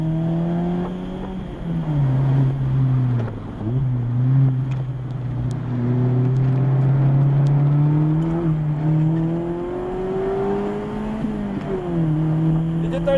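A Mazda Miata accelerates on a wet race track in the rain, its engine droning close by and rising in pitch through repeated gear pulls, then dipping at each shift.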